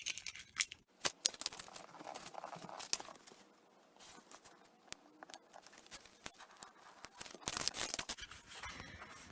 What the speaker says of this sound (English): start peeling away gently the excess at an angle